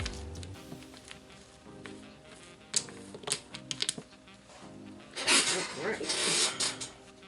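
Resin dominoes are wiped with a Swiffer duster cloth, giving close rubbing and clicking as pieces knock together, with a louder scrubbing swish near the end.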